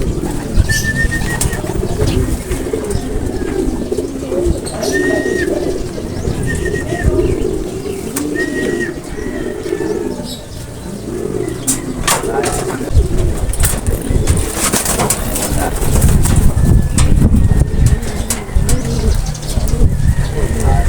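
Racing pigeons coo repeatedly in soft, rolling calls close by, with occasional wing flaps and people talking over them throughout.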